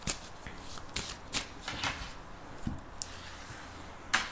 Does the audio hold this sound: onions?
no